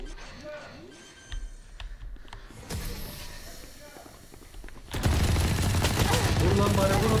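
Rapid gunfire from the Valorant video game erupts in loud, dense bursts that build into sustained shooting, preceded by scattered shots and footsteps, with a voice speaking early on.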